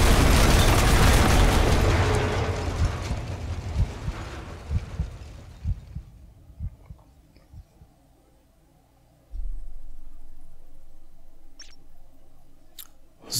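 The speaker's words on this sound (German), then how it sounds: "Der Spionagesatellit Hannibal 3 hat heftige Explosionen in der Nähe der geheimen Armacom-Anlage angezeigt" Huge explosion in the shooter game F.E.A.R., a loud rumbling blast that fades over several seconds into scattered debris thuds and low crackles, followed by a deep low boom and quiet ambience.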